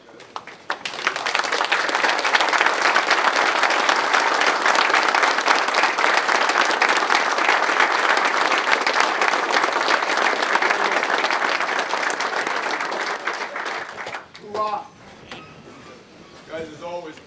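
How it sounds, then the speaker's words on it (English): A football team gives a standing round of applause to a speaker, loud close clapping that swells quickly, holds for about twelve seconds, then breaks off into scattered claps and a few voices. "Guys, stand up, give them a round of applause, guys"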